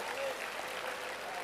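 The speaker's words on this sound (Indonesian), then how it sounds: "Tepuk tangan untuk ibu." A church congregation claps for a woman after a homily remark, a brief, steady patter of hands at moderate distance with some voices mixed in.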